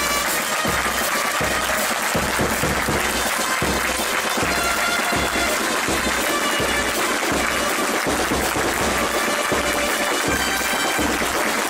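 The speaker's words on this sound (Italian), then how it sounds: "Un applauso!" A crowd claps outdoors during a Madonna dell'Arco procession in Grumo Nevano, loud and continuous, mixed with a dense, noisy outdoor din and a low rhythmic pulse running underneath.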